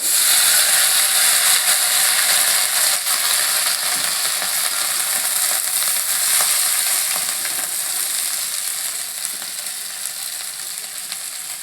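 Drumstick, eggplant and local potato frying in oil with panch phoron, a loud continuous sizzle with faint crackles and occasional stirring scrapes, slowly easing off toward the end.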